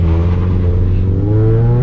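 Turbocharged Scion FR-S engine droning steadily with a slowly rising pitch as it revs, loud and close, with no talk.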